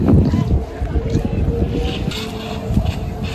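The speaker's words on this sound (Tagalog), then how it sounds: "Ay, mahangin." Gusty wind buffeting the microphone outdoors in Canada, a rough continuous roar with a voice briefly audible underneath.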